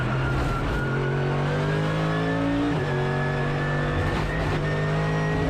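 A race car engine at full throttle in a racing video game, loud and continuous, its pitch climbing through gears with brief shift drops, heard alone without talk.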